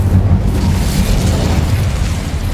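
An Incendio fire spell in Hogwarts Legacy unleashes a loud, close, continuous roaring whoosh of flame with a deep rumbling body throughout.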